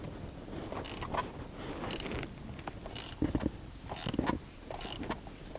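A ratchet wrench tightens a 17 mm bolt, its clicking and mechanical creaks arriving in short separate bursts about once a second, close but fairly quiet over background noise.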